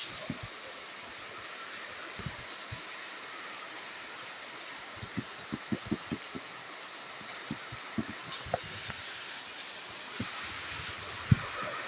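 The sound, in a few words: heavy rain falling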